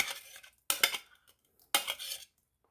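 A spoon clatters against a bowl in three short bursts while a smooth onion marinade for shashlik is mixed, close and crisp with brief silences between strokes.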